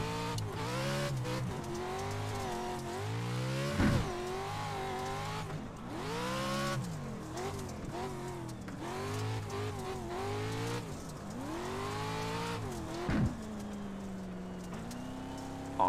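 A stadium truck drifting in the iRacing sim racing game: the engine revs up and down in long swooping sweeps, with sharp shifts and tire squeal, loud and continuous.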